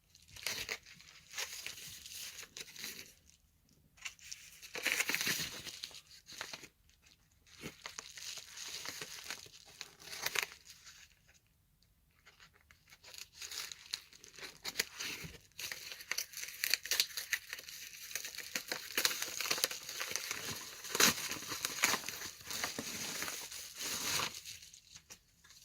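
Paper and plastic wrapping of a Christmas care package crinkle and tear in long, busy bursts with brief pauses, close and fairly loud throughout.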